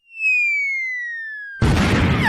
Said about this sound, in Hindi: एक पटाखा यहीं जलाता हूँ